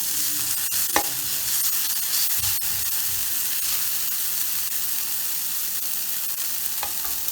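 Chopped onion sautes in a pan with a steady broadband sizzle, broken by a few faint clinks and scrapes of stirring; close and continuous, with no talking.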